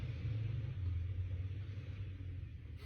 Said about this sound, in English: that's the sound of his car